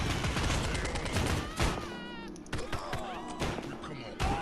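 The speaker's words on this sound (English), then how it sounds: "That stupid machine gun again." Machine gun fire in Postal Redux crackles as rapid bursts of shots mixed with other combat noise, fairly close and loud, in short choppy volleys.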